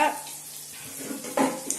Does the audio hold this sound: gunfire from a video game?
no